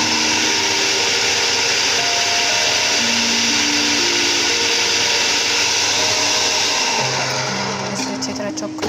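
An electric chopper whirs loudly and steadily while chopping tomatoes, its motor pitch shifting as the load changes near the end.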